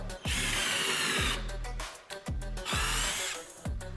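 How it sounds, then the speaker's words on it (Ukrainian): A cordless drill driver set to drill mode bores into a fresh wooden log with a loud motor whine. The drill runs in repeated bursts, and each burst ends as the motor winds down and stops. "Ну і пробуємо сверлити, включили тут режим сверління."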